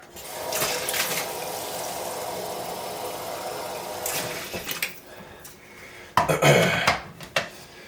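Regular water pours into a protein shake, a steady liquid rush that runs for several seconds, fades, then returns with a brief louder splashing burst near the end.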